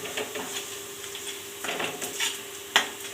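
Chili powder frying in a pan for egg burji, a soft steady sizzle under light stirring and occasional scrapes and clinks of a utensil against the pan, with one sharper knock near the end.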